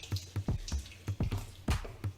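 Water poured and splashed over dry vermicelli noodles to soften them, heard as a string of soft, irregular drips and small splashes, quiet and close.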